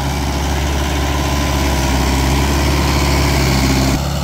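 Mahindra 575 XP Plus tractor engine running steadily with a cultivator attached, a loud, continuous low diesel rumble with a constant throbbing hum that drops slightly near the end.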